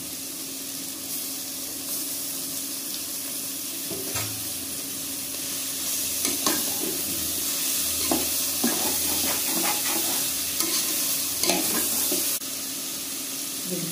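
Vegetables with green peas and tomatoes frying in a pan for millet veg biryani, a steady sizzle with intermittent stirring clatter and scraping through the middle, fairly close and loud, no talking.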